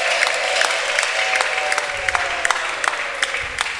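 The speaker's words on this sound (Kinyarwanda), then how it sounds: "tugukomeye mu mashyi mwami" A church congregation claps together during a Christmas service, a dense continuous patter of applause with sharper individual claps standing out.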